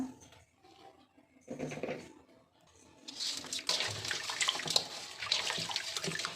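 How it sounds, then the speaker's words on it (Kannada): Raw fish is washed with salt and turmeric under running tap water, beginning with soft splashes and handling, then a louder steady gush of water with rubbing and sloshing nearby, with no talk. "ಒಂಚೂರು ಅರಿಶಿನ ಪುಡಿ ಹಾಕ್ಕೊಂಡು ನೀಟಾಗಿ ವಾಶ್ ಮಾಡ್ಕೊಳ್ಳೋಣ"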